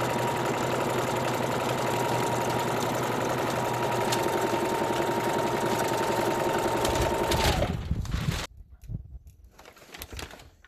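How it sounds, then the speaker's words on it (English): A sewing machine stitches a folded seam in Tyvek fabric, its motor running in a loud, continuous close whir for about eight seconds before stopping abruptly, leaving faint handling noises. "Then I put the little lever down and I slowly start sewing,"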